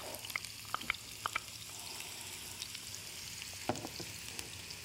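Onions fry in a pan for a vegan pepper gravy, giving a steady soft sizzle with scattered little pops and crackles, close but fairly quiet throughout.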